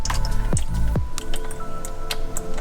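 Transmission fluid drips from a BMW ZF 8-speed automatic gearbox, a few close, wet plopping drips early on, then quieter trickling splatter and small ticks, no talking.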